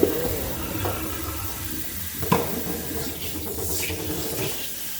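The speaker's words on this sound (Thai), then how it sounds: "เปิดน้ำล้างได้เลย" Tap water runs steadily into a sink to rinse limes being prepared for candied lime, a continuous close splashing wash with a brief clatter midway and no talking.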